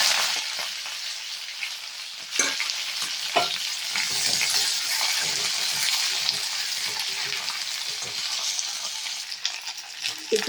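Ivy gourd fries with mustard seeds in a hot pan, giving a loud, continuous close-up sizzle broken by the scrape of stirring, while a voice speaks quietly over it.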